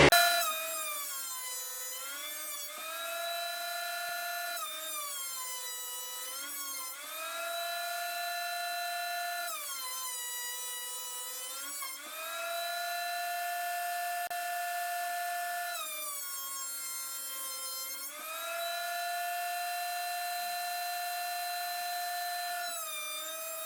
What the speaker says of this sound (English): This planer's really loud.